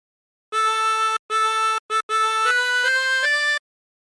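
Tremolo harmonica playing a phrase of What Shall We Do With the Drunken Sailor: a short sequence of sustained, wavering reedy notes with brief gaps, the last few stepping upward, clear and close, alone with no talk.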